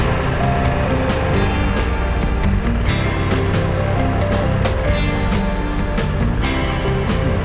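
SM1000 motorcycle engine running on a track, a loud steady drone with a continuous rumble and repeated sharp transients throughout, no talk over it.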